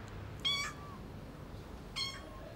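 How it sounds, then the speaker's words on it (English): A kitten meows twice, two short high cries about a second and a half apart, fairly close over a quiet background. "One of the kittens has been left behind."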